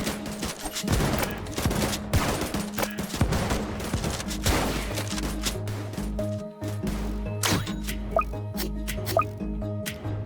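Gunfire in the Tower Defense Simulator game, rapid clicky shots and bursts popping in uneven clusters over a busy layer of game sounds, fairly faint throughout.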